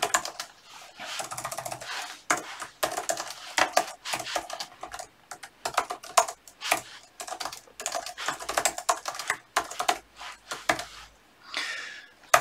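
Someone types a question on a computer keyboard with a rapid, uneven patter of close, crisp key clicks and brief pauses, continuing steadily throughout with no talking.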